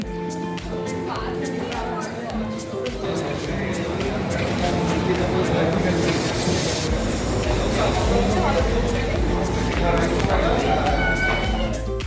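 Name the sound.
metro train arriving at station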